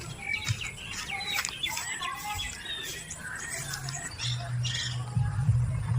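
Birds squawk and chirp in a farm field, with several short, scattered calls over a faint low hum. The calls are fairly quiet and there is no talk.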